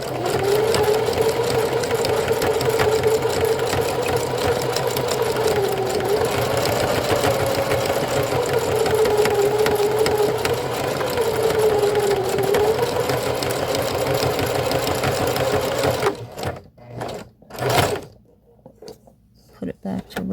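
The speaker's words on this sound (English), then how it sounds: "I will even switch to the zigzag stitch." A sewing machine runs a zigzag stitch on a 2026 skirt, a steady close mechanical whir lasting about sixteen seconds before stopping, followed by a few quieter handling sounds.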